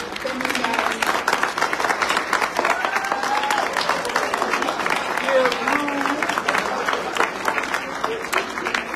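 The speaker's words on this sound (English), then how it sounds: "Can we all stand and give our faculty a round of applause for all they do?" A standing audience at a Lincoln Tech spring graduation ceremony applauds the faculty, with a sustained, loud roar of many hands clapping, crowd noise and a few cheers mixed in for the whole stretch.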